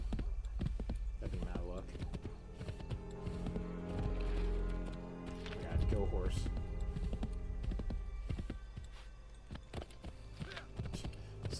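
A horse gallops in the video game Assassin's Creed III, with rhythmic hoof clip-clops beneath steady game sound and a person talking over it.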